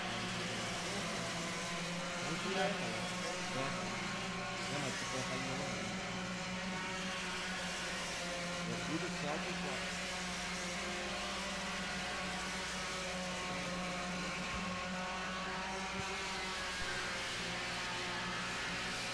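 Touring race cars battle for position around the Guaporé circuit during a Brazilian touring car championship race, engines droning steadily and distantly as a blended pack throughout, with no speech.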